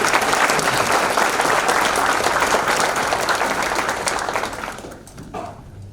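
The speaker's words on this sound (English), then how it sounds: "Would you please give them a round of applause for Ms. Ashley and her family." Audience at an athletic hall of fame recognition gives a round of applause, dense steady clapping that tapers off toward the end into a few remaining claps.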